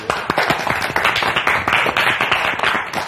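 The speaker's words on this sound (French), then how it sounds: "Applaudissements, s'il vous plaît." A small studio audience claps in uneven, distinct hand claps with a sharp, close and sparse texture, steady for a few seconds without talk.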